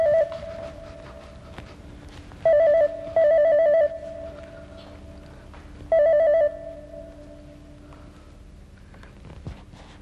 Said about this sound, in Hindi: फोन बज रहा है, कोई उठा भी नहीं रहा।